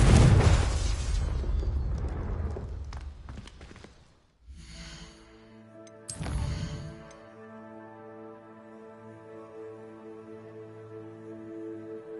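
A fire blast from the Confringo spell in the video game Hogwarts Legacy, a loud booming burst at the start that fades, then a second short blast, followed by sustained tonal game music.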